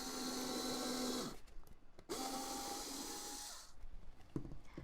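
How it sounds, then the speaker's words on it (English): A cordless screwdriver with a 6mm bit drilling into a polystyrene dummy cake, whirring steadily in two runs separated by a brief pause, close and fairly loud, with no talking. "what I'm going to do is drill a hole where the toothpick mark is"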